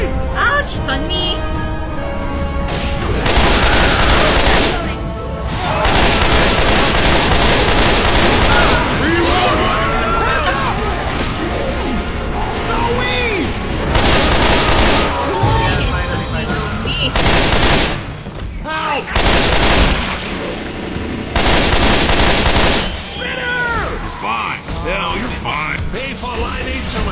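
Video game gunfire crackles in dense, rapid bursts and sustained volleys, loud and continuous, with short pauses between, while people talk over it.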